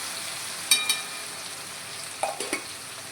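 Green garlic and green chili paste frying in a pan, giving a soft, steady sizzle with a few sharp utensil clicks as it is stirred.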